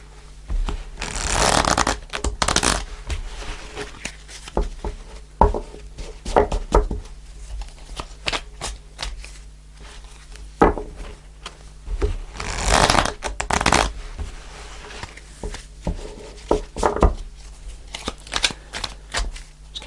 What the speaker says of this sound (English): I'm going to pull the cards and see what else we get,